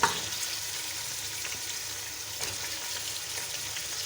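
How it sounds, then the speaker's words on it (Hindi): One kilo of mutton fries with onions in a cup of oil, producing a soft, even sizzle with a brief clatter at the start and faint stirring scrapes, fairly quiet and without talk. "हम इसको प्याज में अच्छी तरह फ्राई करेंगे।"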